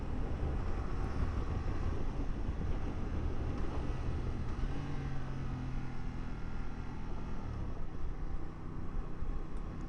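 Riding a Yamaha Tracer 7 motorcycle on the road: a continuous low engine drone with heavy wind rush over the microphone, steady throughout with no talking.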